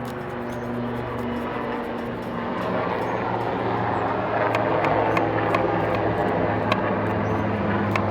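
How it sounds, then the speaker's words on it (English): A police helicopter drones overhead, a steady engine rumble that grows slightly louder, with faint clicks and ambient hum beneath it. "The police chopper is coming."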